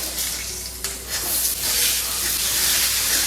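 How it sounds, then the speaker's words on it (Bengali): Pointed gourd (potol) pieces frying in hot oil, a steady, close, bright sizzle and hiss with occasional stirring scrapes, running continuously without talk. "এবার পটলগুলো তেলে দিয়ে দেবো।"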